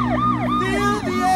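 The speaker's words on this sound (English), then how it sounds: "The sounds of the siren fill the neighborhood." A wailing emergency siren sweeps up and down in repeated cycles, loud and close, with a steady low engine rumble underneath.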